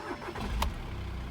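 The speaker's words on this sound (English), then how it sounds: "Let me start it up." Diesel engine of a 2014 Audi A3 2.0 TDI Sport 150bhp Sportback being started, a brief faint crank and catch lasting barely a second, picked up quietly from close by.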